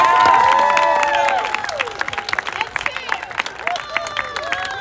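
An audience at the 2022 Wilson ESPY Awards cheers and applauds for the championship teams. A loud burst of crowd noise and clapping opens the clip, then settles into scattered claps, whoops and murmuring babble.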